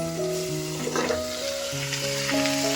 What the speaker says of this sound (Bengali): এদিকে দেখুন আমি কুমড়োর তরকারিটা বসিয়ে দিয়েছি।